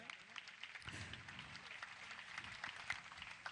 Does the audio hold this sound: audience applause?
yes